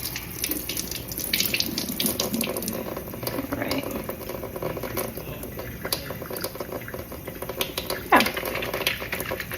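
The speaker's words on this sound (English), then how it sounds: "as I'm washing my hands and putting it under water" Running tap water splashes steadily over hands being washed in a sink, a continuous hissing wash with small irregular splashes throughout, close and moderately loud.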